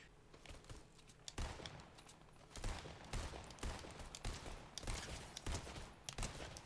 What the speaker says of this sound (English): Oh my gosh, is this a Tommy gun?